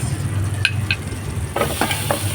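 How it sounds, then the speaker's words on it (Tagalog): Butter and onion sautéing in a pan for sopas, a steady close sizzle with a few scraping stirs of a utensil against the pan. "umpisahan natin ang paggigisa. Unahin natin ang butter. Onion mix."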